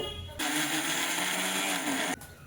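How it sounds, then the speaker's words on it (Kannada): An electric mixer grinder whirs loudly for a short burst, grinding dry ingredients with salt for fenugreek chutney, starting and stopping abruptly with a steady high-pitched motor roar close by. "ಡ್ರೈ ಇರುವಾಗಲೇ ಇದನ್ನು ಒಂದು 2 ಸುತ್ತು ಮಿಕ್ಸಿ ಆನ್ ಮಾಡ್ಕೊಳ್ಳೋಣ"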